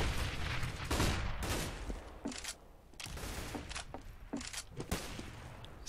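Gunfire in Counter-Strike: Global Offensive on de_mirage during a match: rapid bursts of shots and sharp cracks, loud and dense at first, then more scattered, with game ambience between bursts.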